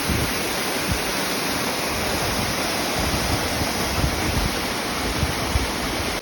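A large waterfall in Hakkâri, Turkey, pours with a steady, loud, broadband rush that fills the whole clip evenly, with no voices over it.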